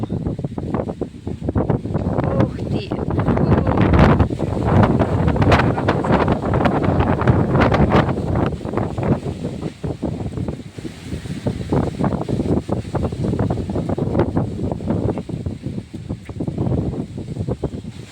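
Strong wind roars and buffets the microphone in continuous loud gusts, with rustling underneath and no voices.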